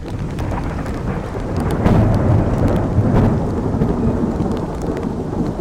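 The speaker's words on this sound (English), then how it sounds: "Thunder got louder and louder, and the rain fell harder." Heavy rain pours down steadily while deep thunder rumbles and swells through it, loud and continuous with no voices.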